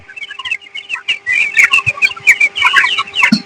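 Broiler chickens on litter in a poultry house in midday heat, a busy chorus of high chirps and peeping calls overlapping at close range, with a faint steady hum beneath.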